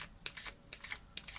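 Tarot cards are handled in three quick bursts of riffling and sliding, crisp papery shuffles close up with brief pauses between them.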